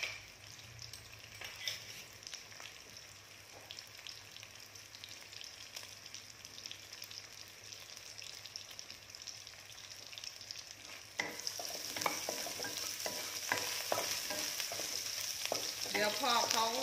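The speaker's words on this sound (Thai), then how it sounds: "เราจะต้องผัด หมู3 ชั้นเจลงไปก่อน" Vegan three-layer pork stir-frying in a pan, a continuous bright sizzle that grows louder and busier partway through as it is stirred, with scraping of a utensil.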